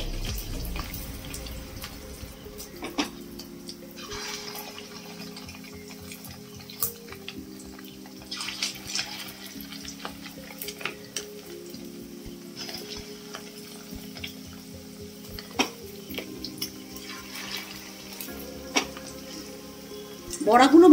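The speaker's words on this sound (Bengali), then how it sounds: "এটাকে ছোট ছোট বড়ার আকারে তেলের মধ্যে দিয়ে আমি ফ্রাই করে নেব" Small fish roe fritters (macher dimer bora) are dropped one by one into hot oil in a pan, a soft, steady sizzle and crackle running under background music.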